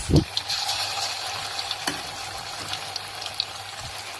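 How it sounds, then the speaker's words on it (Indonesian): Tofu frying in hot cooking oil, a close, steady sizzle and crackle with a sharp splash as the pieces drop in at the start and a few clinks of stirring later. "Kita panaskan minyak goreng. Kita masukkan tahu yang tadi ya guys."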